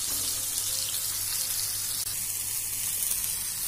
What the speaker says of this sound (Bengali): বেগুনটা এদিকে ভাজা হচ্ছে